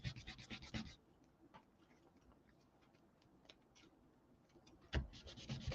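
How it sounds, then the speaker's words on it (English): A kneaded eraser rubs excess graphite off a Red Monika sketch cover in close, quiet bursts of scratchy rubbing, with fainter scattered scrapes and a pause between the louder strokes. "take the knead eraser. I'm gonna try to get some of the excess graphite off of here"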